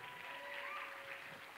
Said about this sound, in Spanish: Fuertes aplausos nuevamente, por favor,